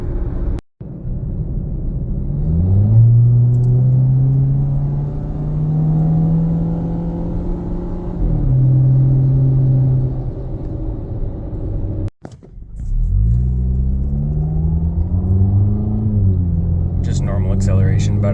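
A 2014-2017 Jeep Patriot with a 6F24 transmission on fresh fluid accelerates moderately from inside the cabin, engine tone climbing and easing through gear changes in two long pulls, steady and close.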